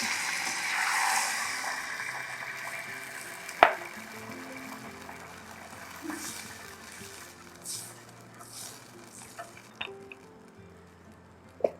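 Water poured into a pan with soy sauce for braising vegetarian pork belly with bamboo shoots, a soft sizzle that fades as it settles, with scattered clicks and light knocks of utensils against the pan.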